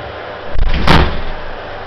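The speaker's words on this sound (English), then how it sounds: "I'll just close the door." An incubator door is closed with a single close thud and brief rattle, with a low hum in the background.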